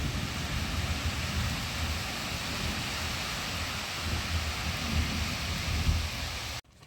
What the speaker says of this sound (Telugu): వర్షంతో పాటు ఉరుములు మెరుపులు కూడా వస్తున్నాయి.